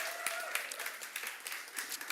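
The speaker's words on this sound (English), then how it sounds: "let's give them a round of applause" An audience at a marketing agency awards ceremony claps steadily, a dense wash of applause at moderate distance with no break.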